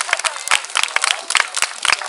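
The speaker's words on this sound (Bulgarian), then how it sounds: "Аплодисменти" Brief burst of crowd applause for a contestant on a bear-hunting themed show, dense and busy clapping with sharp individual claps standing out and some voices mixed in.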